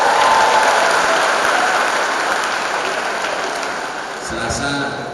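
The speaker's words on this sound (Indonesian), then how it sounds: "Kita beri tepuk tangan." An audience claps steadily and loudly in a hall during a university graduation ceremony, a dense wash of applause that slowly thins toward the end.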